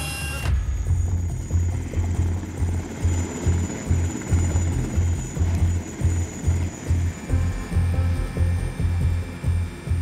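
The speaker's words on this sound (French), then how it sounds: "L'hélicoptère est le seul moyen d'y intervenir en urgence." A medical rescue helicopter flies over dense forest, its rotor thudding in a loud, steady, rapid rhythm with a constant high engine whine throughout, close and continuous with no talk.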